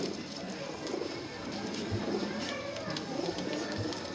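Pigeons coo softly amid a busy, noisy pigeon market background with voices and chatter nearby.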